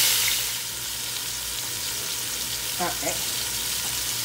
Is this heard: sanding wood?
no